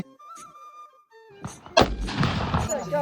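A Diwali firecracker bursts with one sharp, loud bang, followed by crackling and rumbling noise, after a quieter stretch of tonal background sound.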